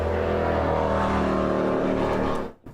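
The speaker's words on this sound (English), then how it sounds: "Loud ass car going by" A loud car roars past nearby, its engine noise holding strong and steady before cutting off abruptly at the end.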